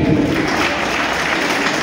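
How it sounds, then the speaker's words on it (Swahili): A short burst of dense, continuous clapping from a crowd, steady and fairly loud. "Simonipigia makofi"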